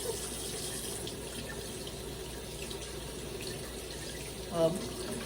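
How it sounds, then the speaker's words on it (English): Strawberries being rinsed under a running kitchen tap, a steady hiss of flowing water filling a sink, with a brief splash near the end. "Washing the berries."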